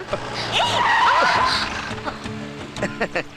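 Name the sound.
car braking hard with tires skidding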